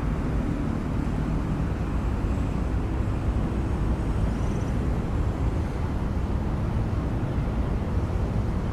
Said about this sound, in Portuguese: Esse que tá vindo aí é um Airbus